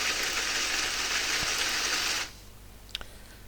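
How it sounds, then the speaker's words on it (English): A large robot arm's rotation motor whirs with a dense, grinding mechanical drone for about two seconds, then cuts off, leaving a couple of faint clicks. "I can slide it to a position, and the motor moves."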